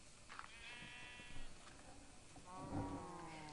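Blocky Minecraft sheep bleat in an FTB modpack game world, two or three wavering bleats close by over a low background hum.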